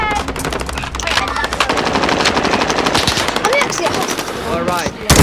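Rapid sustained automatic gunfire in the video game Warzone, dense loud bursts filling the whole stretch, with players shouting over the shooting.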